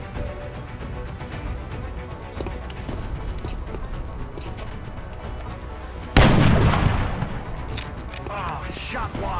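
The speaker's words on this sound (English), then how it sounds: "I'm taking fire." Gunfire in the video game XCOM Long War: a steady rattling bed of shots, then a loud, sudden blast about two-thirds through that slowly fades back into the ongoing firing.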